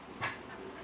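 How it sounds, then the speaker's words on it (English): A dog whimpers once in a short, faint high whine, with quiet background hiss and no talking. "Hello, Eden the dog"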